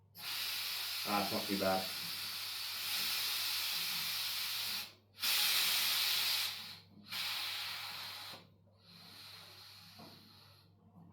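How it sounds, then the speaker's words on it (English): Gas hisses out of a shaken homebrew beer keg under a tea towel as it is degassed, several bright bursts of venting broken by short stops, with a brief spoken remark partway through. "I'll degas it like that, because sometimes you'll get some spray coming back"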